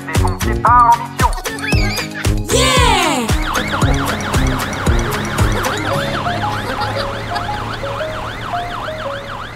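A fire truck in a children's cartoon sounds a loud, wailing siren that rises and falls in repeated sweeps over busy music and effects, gradually easing in level.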